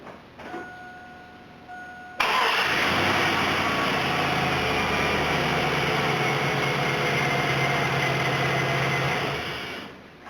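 A Chevrolet engine with a repaired exhaust manifold starts up after a brief click and a short beep, then idles steadily and loudly for several seconds before cutting off.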